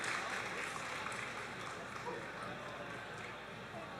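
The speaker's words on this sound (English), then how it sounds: "Round of applause." An audience at a cosplay contest applauds, giving a faint, even wash of clapping from a crowd heard at a distance in a large hall.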